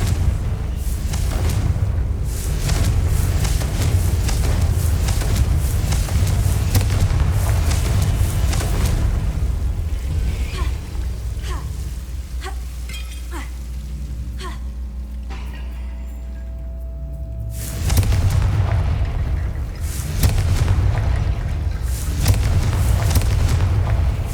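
In the video game Hogwarts Legacy, the Confringo spell sets off loud, rumbling explosions with heavy booms and crackling bursts that fill most of the stretch, then ease into a quieter lull before another roaring blast.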